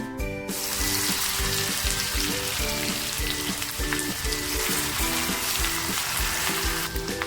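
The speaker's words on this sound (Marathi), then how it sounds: "गॅसवर कढई तापत ठेवले तेल टाकते तेल छान तापले जी लसूण टेचून घेतली होती ना ती लसूण अगोदर टाकते" Garlic frying in hot oil in a wok, a loud continuous hiss and sizzle with a steady humming tone beneath, no talking.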